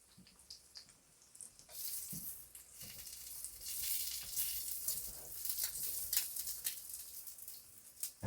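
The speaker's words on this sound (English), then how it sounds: "the trick to frying an egg is you got to put a little bit of grease in it and to make it slide" An egg fries in a little grease in a pan, giving a soft, fairly faint sizzling hiss that swells and continues with small crackles and pops throughout.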